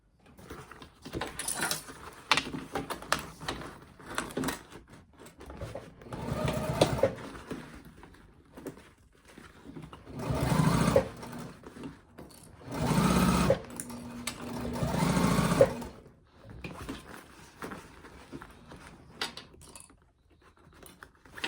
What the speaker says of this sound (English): I'm going to pop back to the machine.